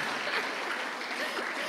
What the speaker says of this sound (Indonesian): Tepuk tangan dong untuk Pak Meki.